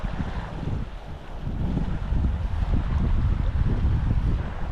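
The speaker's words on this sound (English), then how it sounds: "It's windy, makes it not easy to fish and cast." Steady wind gusting by a river while fly fishing, a broad low roar of wind buffeting the microphone that swells and stays loud throughout, with no talking.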